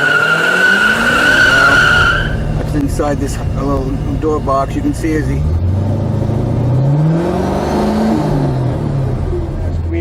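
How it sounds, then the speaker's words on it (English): A 1978 Cadillac Seville engine revs hard and tires screech and squeal through a burnout, with someone talking over the roar. "So anyway, there's the burnout"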